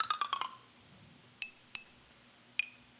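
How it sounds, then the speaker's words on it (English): A glass is tinked, giving a quick run of four or five bright clinks followed by three separate ringing taps spaced apart, each decaying briefly in a quiet room. "So we just recorded the tink. there's the sound of the glass"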